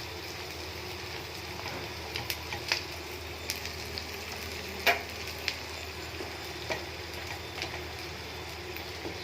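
Liver frying in a pan, a soft steady sizzle at low level with scattered faint clicks and a sharper knock of utensil against the pan.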